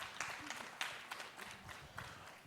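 Faint, sparse clapping from a small audience thanking panelists at a tech panel discussion, a scattered patter of hands with a few louder claps, heard from a distance.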